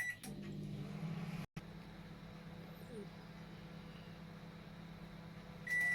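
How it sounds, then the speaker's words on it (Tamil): A microwave oven hums steadily at low level on high power for three minutes, with a brief cut partway through and a beep near the end. "மைக்ரோவேவ் ஹை மோடில் வச்சு ஃப்ரை பண்ண போகிறோம்"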